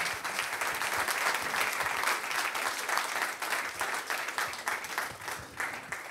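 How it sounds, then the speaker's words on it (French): An audience at a leadership conference in Avignon warmly applauds as Alain Juppé joins them, continuous clapping heard from within the crowd, moderately loud and holding steady throughout. "Je vous demande d'applaudir très chaleureusement Monsieur Alain Juppé,"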